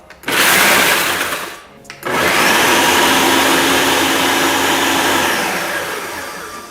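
A food processor grinding cookie crumbs into a fine, sand-like crust for a caramel cinnamon crumble cheesecake: a loud, close whirring motor in two pulses, a short burst, a brief stop, then a long steady run that slowly fades.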